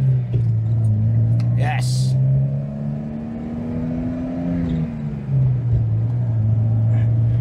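A 1975 Citroën CX2200 Pallas accelerates hard, its loud, steady engine drone rising in pitch and then dropping with a gear change, heard from inside the car while a voice speaks briefly.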